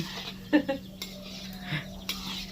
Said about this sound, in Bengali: সেটাকে আস্তে আস্তে লাল করে ভেজে নিতে হবে